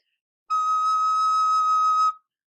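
One bright, high recorder note, high E played with the thumb halfway off the hole, sustained evenly for about a second and a half, clear and piercing, played alone with no other sound.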